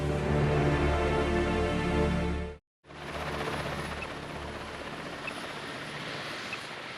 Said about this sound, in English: The helicopter quickly searches the area